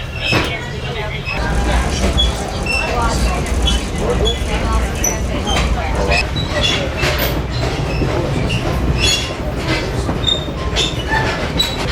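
Steady rumble of a North Shore Scenic Railroad train rolling along the tracks in Duluth, Minnesota, with rattling and occasional clicks, while people talk quietly nearby.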